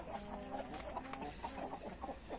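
Soft, repeated clucking from a young rooster and hen on a farm, a steady run of short calls at low level over background noise.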